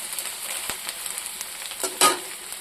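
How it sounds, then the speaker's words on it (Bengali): Dried fish and onions fry in a pan with a steady oily sizzle, punctuated by sharp clicks and scrapes of stirring, including one louder scrape near the end. "এটা একটু লাল লাল করে ভাজবো"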